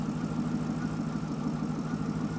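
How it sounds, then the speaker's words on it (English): A Chevrolet Corvette engine with an unresolved fault idles steadily with a low, even rumble and a faint rhythmic pulse, continuous throughout with no talking. "as you can hear, the engine is running"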